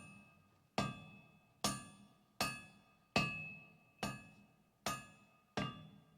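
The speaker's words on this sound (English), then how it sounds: "Distantly you hear the melodic chime of metal on metal and the low chorus of a work song" Hammer striking an anvil in a dwarven forge in Pillars of Eternity, eight evenly spaced metallic clangs that ring out and decay before the next strike, alone and clear.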